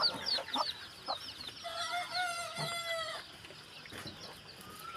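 Desi hens and chicks in a backyard poultry house give a run of soft clucks and chirps at close range, with a brief crow-like call partway through and no talking.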